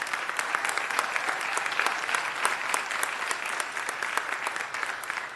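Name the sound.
applause for the council president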